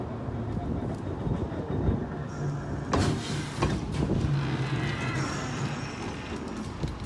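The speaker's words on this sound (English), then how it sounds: "This is the streetcar right here, but we waiting for the other one to come on this side." A city streetcar rumbles steadily along its tracks nearby, with clattering bursts and a brief squeal as it rolls past a waiting stop, a voice speaking faintly under the noise.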